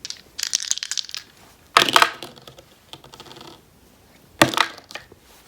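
Astrology dice rolled and tossed onto a hard surface, giving three short rattling clatters of tumbling dice separated by brief pauses, fairly close and with no voices.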